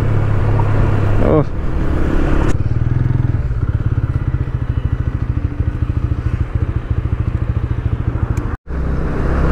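A motorcycle on a road trip, running low on fuel, gives a loud, steady engine thrum close by, with a shift in tone early on and a brief cutout near the end.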